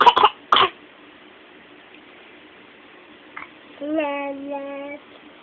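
A young child with a suspected whooping cough gives two sharp, close coughs at the start. After a quiet pause come a small throat sound and a short, high-pitched, voiced vocalization.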